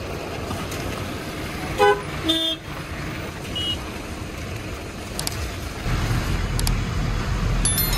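Car on a narrow mountain road honking as it approaches from behind, with short horn toots over steady engine and road noise, close by.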